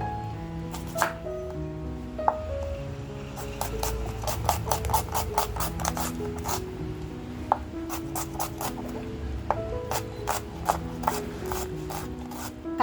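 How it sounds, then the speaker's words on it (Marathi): An onion finely chopped with a knife on a board: rapid bursts of crisp, close knife taps come in quick runs over a steady background hum, with no talking. "जो कांदा घेतलाय तो कांदा आता छान असा बारीक करून घ्यायचा आहे"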